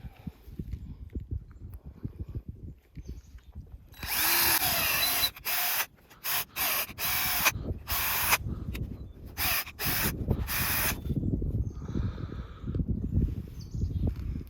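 A hand drill bores a tap hole into a maple tree outdoors, running in close, loud bursts of several seconds each that start and stop repeatedly before fading into quieter rustling.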